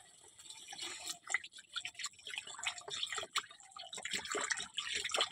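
Water added to a pot of fish curry with potatoes, sloshing and trickling in irregular bursts close by, with no voices.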